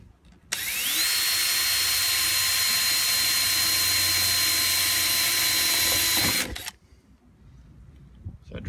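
A cordless power drill bores a screw hole for an aftermarket speaker in a Toyota Land Cruiser FZJ80, a loud, close, steady high whine that spins up and runs for about six seconds, then stops abruptly, leaving quiet rustling.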